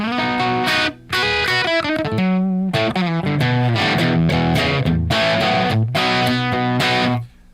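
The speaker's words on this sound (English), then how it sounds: "I'm going to switch over to a Les Paul here in a second." A Gibson Les Paul electric guitar plays distorted chords and lines for several seconds with no talk, loud and continuous apart from one brief gap early on and a cutoff at the end.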